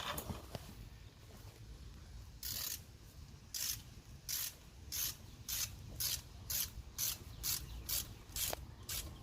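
A 1/4 inch tap cuts threads into a drain plug hole on a 2014 Taurus SHO PTU, giving quiet rhythmic ratcheting scrapes in short regular bursts after a few slower turns, faint and close.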